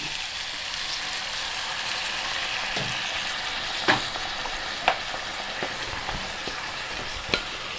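Mixed vegetables with tomato frying in a pan sizzle loudly and steadily after hot water is poured in, with a few sharp clinks of a spoon against the pan.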